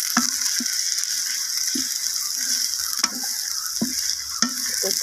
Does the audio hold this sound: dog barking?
no